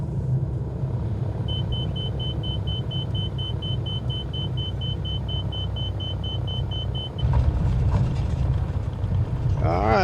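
A small aircraft touches down on a runway in Microsoft Flight Simulator 2020: a steady, loud engine rumble with a repeating electronic beep, then an abrupt shift in the noise at touchdown near the end.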